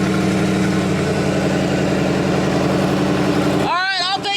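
An LS-swapped Ford Mustang engine rumbles in a deep, steady idle close by, running a little rough, before it suddenly cuts away near the end, where a voice briefly speaks.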